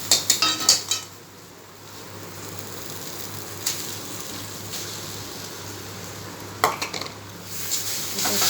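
A spoon scrapes and clinks in a pan while mashed boiled soybean and potato paste is stirred in, with soft sizzling underneath and a few sharper clatters at the start and later on.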